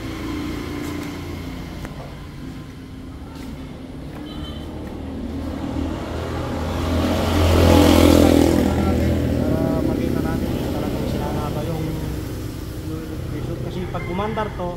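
Nissan Navara with a faulty boost sensor, its engine cranking and then catching into a rough, swelling idle that peaks and settles, under someone talking.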